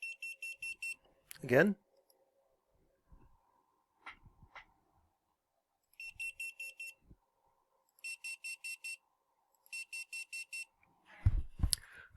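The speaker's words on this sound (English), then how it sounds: "Switching boards to the GeeekPi board, I can make it beep 5 times." A beeper on a GeeekPi board gives bursts of five quick, high electronic beeps, repeated several times, close and clean, with someone speaking briefly between the bursts.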